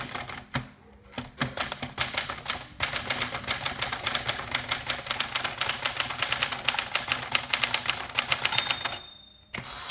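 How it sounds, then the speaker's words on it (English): Rapid keystrokes on a 1959 Tower President XII manual typewriter, a dense, steady run of crisp mechanical clacks close up with short pauses, ending with a carriage bell. "I love the way the Smith Coronas from this era type."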